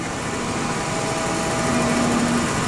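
A Gould & Eberhardt Model 14 horizontal tool room shaper runs with its cross feed engaged, a loud, continuous mechanical drone with a faint steady whine close by and no speech.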